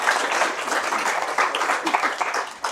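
Applause from a conference audience fills the room steadily for about three seconds, dense and continuous clapping with a faint murmur of voices beneath.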